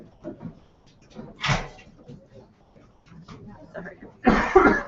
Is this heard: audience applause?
no